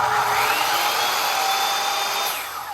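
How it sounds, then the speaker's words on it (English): An electric saw powered by a ZLPOWER GS6000W inverter running on two 24 V LiFePO4 batteries whines steadily at full speed, a loud, even motor drone with a rising tonal pitch that holds throughout and eases slightly at the end. "You see how that saw starts up pretty good."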